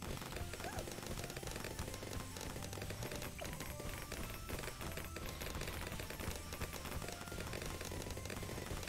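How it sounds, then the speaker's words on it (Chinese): Balloons pop in the tower defense game Bloons TD as a dense, rapid, continuous crackle of small pops, steady and fairly faint throughout, with no talking. "眼睛闭起来，听听这美妙的气球爆炸声就好了。"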